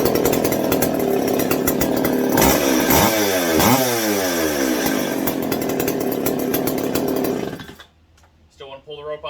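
A McCulloch PM650 chainsaw with a freshly sharpened chain runs loud and close, revving up and down through cuts for several seconds before abruptly cutting off into quiet.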